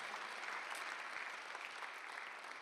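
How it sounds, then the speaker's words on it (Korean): A church congregation at a Sunday worship service bursts into steady applause, dense continuous clapping from many hands filling the room at an even level with no voices over it. "깨달은 사람만 박수 한번 해주세요"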